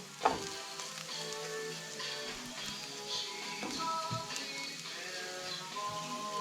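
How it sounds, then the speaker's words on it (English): Green pepper tossed into onions already frying in a pan for a British Indian restaurant-style chicken bhuna, giving a steady close sizzle and crackle with a soft thump at the start and occasional stirring. "I'm going to chuck in now the green pepper"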